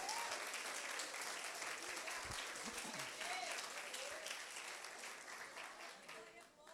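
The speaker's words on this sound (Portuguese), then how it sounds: "Você pode aplaudir ao Senhor?" A church congregation applauds during a teaching service, broad dense clapping that holds steady and slowly thins, with voices calling out over it.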